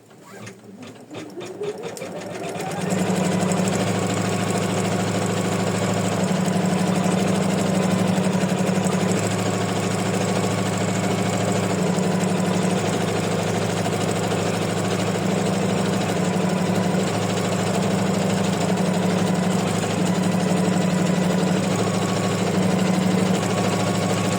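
A sewing machine stitches a fully lined purse, running a loud, steady mechanical whir with rapid needle chatter after a short start-up, continuing unbroken and close.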